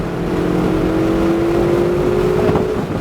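A Ferrari's engine on a race track pulls under added throttle, a steady, close droning tone that climbs slightly in pitch and holds for a few seconds before easing.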